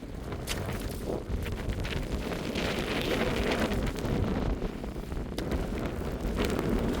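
Strong wind gusting over the exposed summit of the Bigelow mountains on the Appalachian Trail, roaring and buffeting the microphone in loud, rumbling waves with no voices.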